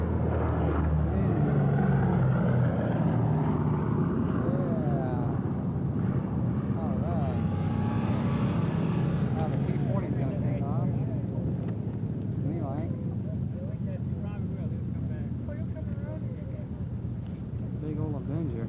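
A big WWII Grumman Avenger flies past at an airshow, its engine drone swelling and fading under steady wind noise while someone talks over it.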